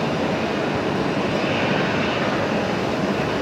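A Virgin Australia Boeing 737 rolls away after pushback at Brisbane Airport at night, its engines giving a loud, steady broadband roar that holds constant throughout.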